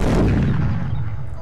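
A loud, booming video game starship explosion from X-Wing on Tabletop Simulator, with a heavy low rumble that decays over about a second and a half.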